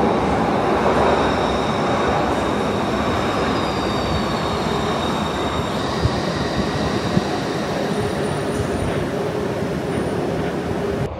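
A Glasgow subway train arriving at a platform rumbles steadily nearby, wheels grinding on the rails with faint squeals and clicks, continuous and loud throughout.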